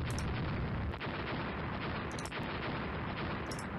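Naval gun salvos in the video game Rule the Waves, sixteen guns firing as a dense, continuous roar of booming gunfire with a few sharper cracks standing out, loud and unbroken throughout.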